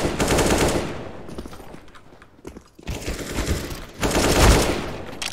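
Rapid automatic gunfire in a tactical shooter game match, loud bursts with a brief lull before heavy firing resumes, including a single sharp shot near the end.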